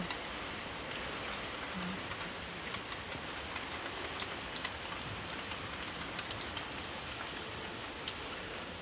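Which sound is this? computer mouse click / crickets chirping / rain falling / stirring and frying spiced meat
rain falling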